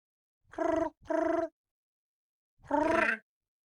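A voice mimics a telephone ringing with three humming buzzes, two quick ones close together and then a longer one after a pause, loud and close with silence between.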